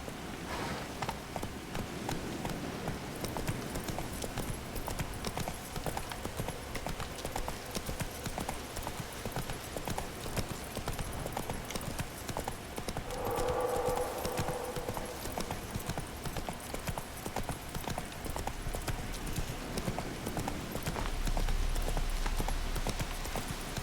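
The horse Roach gallops in The Witcher 3, with steady rhythmic clip-clop hoofbeats running throughout alongside rain-like background noise, and a brief whinny partway through.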